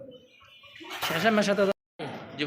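Yellow magpie pigeons, offered for sale at a pigeon market, give soft cooing and chirping calls that rise to a loud burst mid-clip, with a brief drop to silence before the noise resumes.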